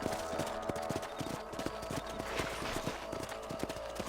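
Horse hooves clip-clop in a steady rhythm while riding in the Red Dead Redemption video game, close and continuous over a music bed throughout.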